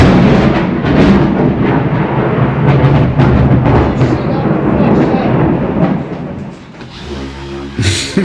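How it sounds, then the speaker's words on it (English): Very loud, close thunderclap and rolling rumble from a nearby lightning strike, a broad sustained roar filling the clip before easing off near the end. "That was the loudest thunder I've ever heard"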